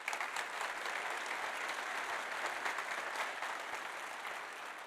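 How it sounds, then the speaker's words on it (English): Steady, fairly faint applause from an industry conference audience at Automate 2024 rolls on evenly for several seconds, a dense wash of many hands with no voices over it. "So let's give them a round of applause."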